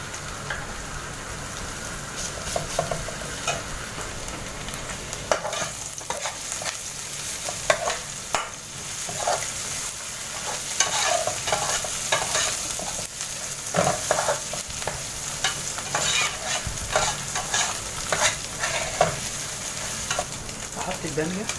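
Garlic sizzles and fries steadily in a pan while a spoon stirs it, with scraping and clinking stir strokes scattered over the constant hiss, close and alone.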